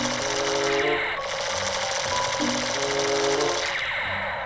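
A toy M16 gun fires in a rapid, buzzing mechanical rattle, with bursts broken by short pauses, close and fairly loud.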